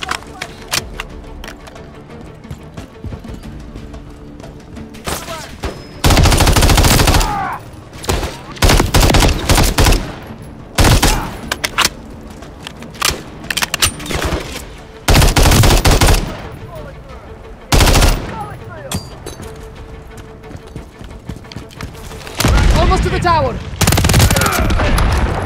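Enemy gunfire in Call of Duty: Modern Warfare 3 (2023) during the Precious Cargo mission bursts out loudly in repeated automatic fusillades, several bursts a few seconds long separated by quieter stretches, with voices speaking between them.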